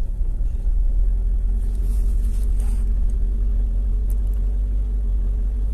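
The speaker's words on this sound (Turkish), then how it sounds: "Start düğmesine basıyorum. Evet, aracımız çalıştı." A car engine idles steadily right after a keyless push-button start, a close, constant low rumble filling the whole clip with no break.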